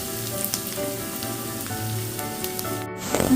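Onions frying in hot oil, a steady close sizzle with soft crackles and a stir or scrape near the end.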